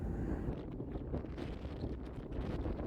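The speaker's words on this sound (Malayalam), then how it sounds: "നല്ല ശക്തമായ കാറ്റാണ് ഈ ഭാഗങ്ങളിൽ അടിക്കുന്നത്" Strong wind roars steadily across the microphone at a high hilltop viewpoint on Ramakkalmedu, a loud continuous rumbling gust with no voices.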